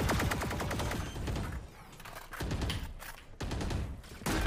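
Rapid bursts of automatic gunfire rattle through an online video game shooter match, loud and dense, with brief breaks between volleys.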